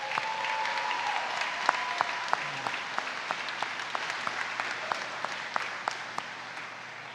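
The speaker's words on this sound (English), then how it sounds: "Let's give them a round of applause" Steady audience applause at a high school commencement ceremony, a dense wash of clapping with some sharper individual claps standing out, holding at an even level throughout.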